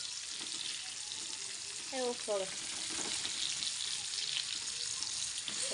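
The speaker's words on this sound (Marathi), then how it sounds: "उडायला लागले आता मित्रांनो मस्तपैकी बघा कडक कडक तळलेला आहे बघा" Fish frying in hot oil, a steady close sizzle and crackling spatter throughout, with a brief voice-like sound midway.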